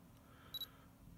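A Nikon camera gives its autofocus confirmation beep, a quick pair of high, thin electronic chirps, close but quiet over a faint background hiss.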